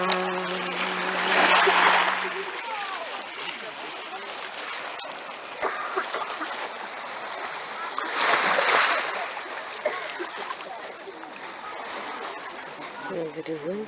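Black Sea waves at a beach in Simeiz, Crimea wash and splash in two broad surges, with a steady watery hiss in between and faint bird calls in the background.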